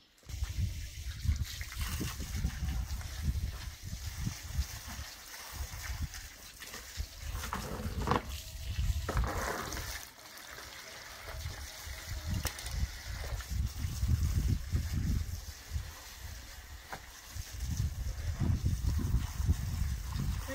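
Water runs and trickles unevenly over freshly picked spinach as it is washed outdoors in a garden, with bursts of splashing and handling close by under a light breeze.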